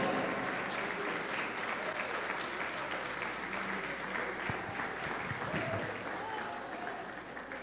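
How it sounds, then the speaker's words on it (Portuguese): A church congregation applauds at length, a full, continuous clatter of many hands that holds steady and tapers slightly near the end, with faint voices mixed underneath. "Pode aplaudir, é Ele que é digno de honra e glória."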